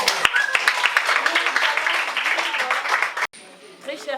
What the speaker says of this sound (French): Applaudissez un peu